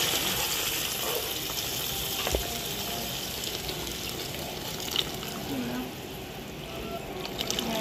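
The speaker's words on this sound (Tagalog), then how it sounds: "Pwede nang mag-add ng tubig sa sabaw." Water gushes steadily into a pot of pork sinigang, a continuous splashing pour with a few small knocks, while a person talks over it.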